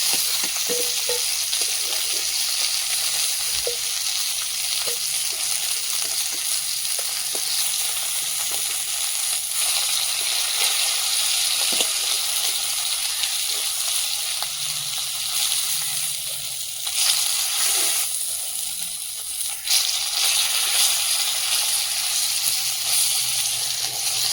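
Oil heats and fries in a wok on a home kitchen stove, giving a continuous, even sizzle with occasional light clinks and stirring sounds, steady and close throughout without speech.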